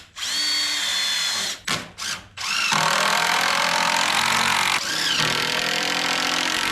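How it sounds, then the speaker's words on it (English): Power drill boring holes in wooden spacer blocks for a chicken shelter build: two loud sustained whines, separated by a few brief stop-start bursts, heard close with no talk. "Now we gotta drill some holes in these spacer block"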